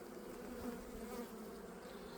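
Bees hum steadily around a middle frame pulled from a brood box hive after winter, a dense, continuous close-up drone with no talk.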